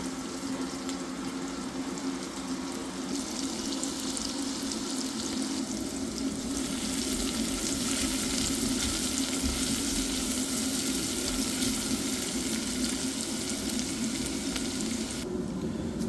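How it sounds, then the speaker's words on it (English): Carrot frying in a dish of butter and oil gives a steady, busy sizzle that holds evenly throughout, with brief shifts in brightness as the pieces are stirred, and no talking. "I'm going to get my carrot in there, in the butter and the oil. I'm just going to fry that."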